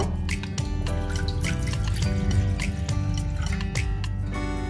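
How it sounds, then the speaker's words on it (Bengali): Water is poured into a pressure cooker in a steady, continuous stream, with bright splashing and drips over a rich tonal gurgle. The pour sounds close and fairly loud, and there is no talk. "এবার আমি প্রেসার কুকারে পরিমাণ মতো জল দিয়ে দেব।"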